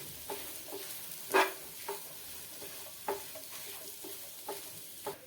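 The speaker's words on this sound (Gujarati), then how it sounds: "હવે તેમાં આપણે બટેટાને નાખી દેવાના છે। તમારે આમાં લીલા વટાણા નાખવા હોય તો પણ નાખી શકાય। હવે આપણે બધી વસ્તુને સારી રીતે મિક્સ કરી દઈએ।" Potato filling for aloo patties being mixed in a pan, with faint soft sizzling beneath a series of quiet, spaced spoon scrapes and taps, one louder clack standing out.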